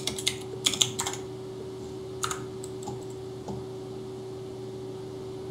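Close clicking of computer-keyboard keys in short, quick bursts, loudest early on and then sparser, over a steady electrical hum in a quiet room.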